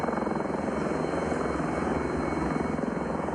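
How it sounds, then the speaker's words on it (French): Tiger military helicopters of the French army aviation (ALAT) fly nearby, a steady loud rotor drone and turbine whine continuing without a break and without voices. "on va appeler les hélicos, les tigres de l'ALAT pour pouvoir nous intervenir sur nos positions"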